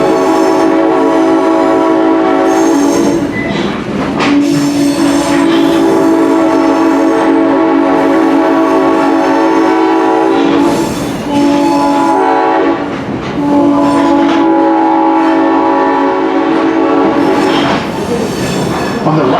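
A train runs at the Pacific Southwest Railway Museum in Campo, California, with loud steady rumbling and clacking, long horn blasts, and squealing wheels throughout, close and continuous.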